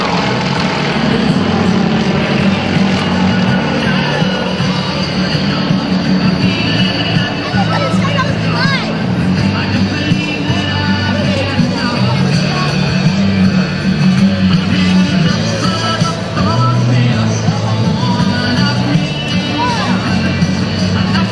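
Propeller aircraft of the Aerostars aerobatic team breaking out of and rolling back into a V formation at a 2009 airshow, a loud continuous engine drone with crowd babble and a commentator's voice over it throughout.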